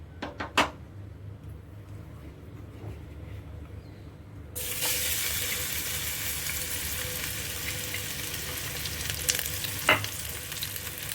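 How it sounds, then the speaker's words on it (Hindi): Ginger and garlic dropped into smoking hot mustard oil, a sudden loud sizzle bursting in partway through after quieter kitchen clatter, then a steady close frying hiss with a few clinks. "तो अब हम इसके अंदर डाल देंगे अदरक और लहसुन।"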